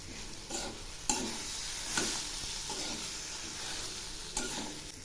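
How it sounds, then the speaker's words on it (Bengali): Green banana peel paste with salt is stirred in a hot pan, a steady close sizzle broken by several distinct scraping strokes of the spoon, with no talk. "আবার একটু নেড়ে দিচ্ছি।"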